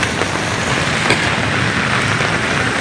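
Steady rain falls at night, a dense, even hiss of drops with no letup over a few seconds, close and fairly loud.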